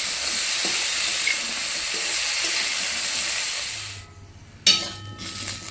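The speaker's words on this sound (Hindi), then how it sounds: "सोरिष तेल पकेइबा। पणस को भी पूरा भल से भाजी दबा।" Jackfruit pieces fry in hot mustard oil, a loud continuous sizzle and crackle that briefly drops away, then returns with a sharp surge as the pieces are stirred.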